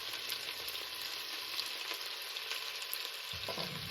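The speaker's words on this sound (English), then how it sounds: "we're going to get that, listen at that sizzle." Beef pieces searing in a hot pan for stew give off a steady, loud sizzle with crackling spatter throughout, and a brief stir or clatter sounds near the end.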